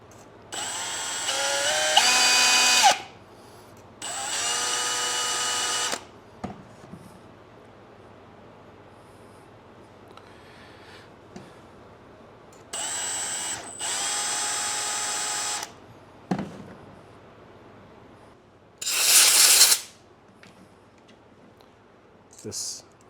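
A power drill cuts a chamfer into the top of a coil spring in four loud, steady bursts of a few seconds each, separated by quieter gaps with small clicks and handling noises, plus one short high whine near the end.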